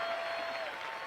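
A large political rally crowd of thousands applauding, a dense continuous roar of clapping heard from within the audience, loud and unbroken.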